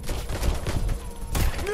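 Gunfire in the video game Watch Dogs: Legion, a dense burst of shots landing as headshots, loud and close over a busy game soundscape with no speech.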